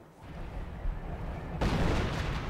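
Mortar and artillery fire in the World War II strategy game Company of Heroes, a steady rumbling barrage with a sharp, louder boom surging in about halfway through and sustained afterward.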